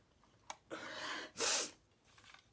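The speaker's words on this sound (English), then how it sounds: "I'm gonna sneeze." A stifled sneeze: a quick sharp intake, a breathy rush, then a louder explosive puff, fairly quiet and close.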